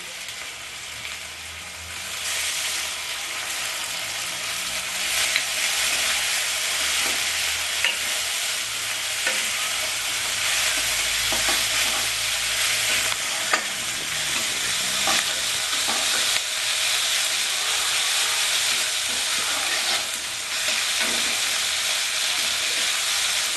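Ginger and green chilli paste fries in a pan for a Bengali raw banana kofta curry, a steady loud sizzle running throughout with repeated scraping stir strokes and no talking.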